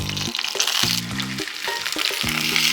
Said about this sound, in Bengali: এইবার এর মধ্যে দেব চিকেনের পিসগুলো আপসাইড ডাউন।